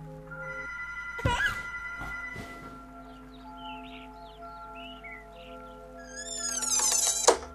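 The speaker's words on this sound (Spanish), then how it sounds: "Llaman por teléfono." A telephone in the Among the Sleep video game rings with steady sustained electronic tones, joined by a few sharp knocks and thumps and then a brighter warbling burst near the end.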